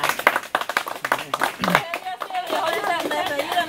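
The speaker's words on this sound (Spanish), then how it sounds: "yo pido un fuerte aplauso ¿verdad? para esta pareja" Clapping from an audience for a couple during a Spanish-language show, brief bursts of hand claps at first that give way to talking and laughter-like voices in the second half.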